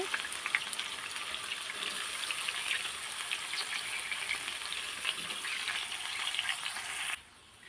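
Cut potatoes and gourd-leaf stems fry in a pan in a steady, close, hissing sizzle that holds evenly for several seconds and then cuts off abruptly.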